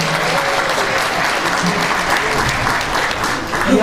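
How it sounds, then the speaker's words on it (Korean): Loud, dense applause from a seated audience at a Carnegie speech contest fills the whole stretch as a continuous wash of clapping, with faint voices mixed in. "앉아 계신 모든 분들께서는 박수로 한명 좀 부탁드리겠습니다."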